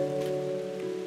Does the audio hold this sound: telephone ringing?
no